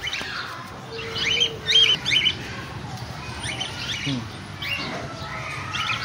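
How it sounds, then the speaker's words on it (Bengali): Pigeons give repeated short chirping calls in bursts, fairly close, with muffled voices talking underneath. "কবুতর"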